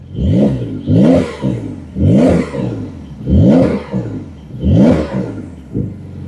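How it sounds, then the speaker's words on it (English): A 2021 Porsche 911 Carrera 4S exhaust in sport mode revs hard five times in a steady rhythm, each rising blip ending in a crackling drop, loud and close. "I'm gonna open up the exhaust. I'll show you can make this a little bit louder in sport mode."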